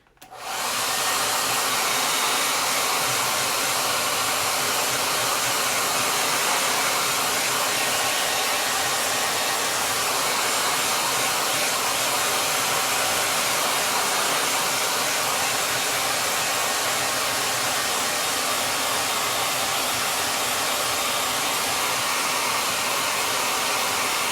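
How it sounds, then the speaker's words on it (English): A cheap dollar-store blow dryer runs continuously at close range, a loud, steady broadband whoosh that starts abruptly and holds unchanged for the whole stretch with no talking. "I find that the dollar store blow dryer works just as good"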